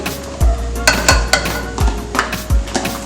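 A spoon works ingredients into reduced couscous for a steamed fish dish, giving four or five soft, regular scraping and tapping strokes against the pot, close and without talk.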